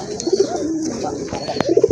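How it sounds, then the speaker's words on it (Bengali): Pigeons coo close by at a pigeon farm, giving short low rolling calls near the start and again at the end over faint background noise. "এই যে দেখেন কবুতরের ডাক দেখেন"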